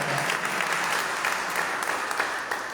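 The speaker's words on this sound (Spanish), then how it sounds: "Demos el aplauso a nuestro Dios" A church congregation at a worship service claps together in praise, a dense, steady wash of applause that fills the room and holds throughout without fading.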